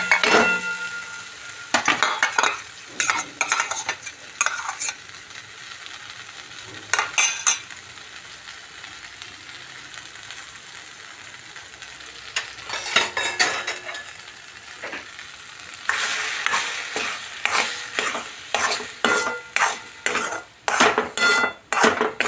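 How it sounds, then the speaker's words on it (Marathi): Soaked garden cress seeds (halim) are stir-fried in a kadhai: a spoon scrapes and clinks against the pan in irregular bursts over a faint sizzle, with quieter pauses between rounds of stirring. "आता आपण ते कढईत टाकून फ्राय करून घेऊयात"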